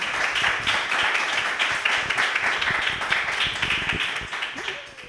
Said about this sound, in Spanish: Les pido, por favor, un aplauso para Gisela.